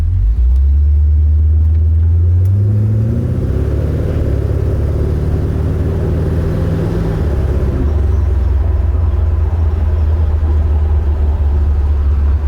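A 1974 Chevrolet Corvette with a 454 LS4 V8 rumbles loudly while driving, the deep engine note rising briefly under acceleration and then settling into a steady low cruising drone.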